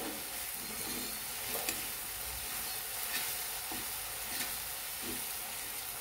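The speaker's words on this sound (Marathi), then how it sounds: "मिरचीचे तेलात चांगली परतून घ्यायची" Ground green chili paste fries in oil in a wok, giving a steady close sizzle with soft scraping from stirring now and then and no voices.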